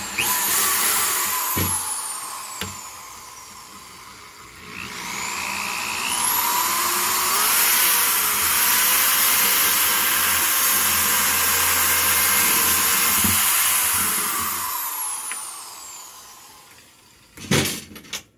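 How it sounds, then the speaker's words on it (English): A power drill whines steadily at high pitch drilling a hole in a bucket, running in two long bursts with a brief pause between, close and loud, followed by a short clatter at the end. "it doesn't matter where in here we drill the hole"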